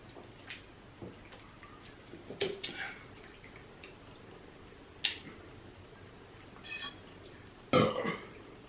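Several soft burps during a seafood boil mukbang, spaced irregularly over quiet background with faint eating noises, close and low in level.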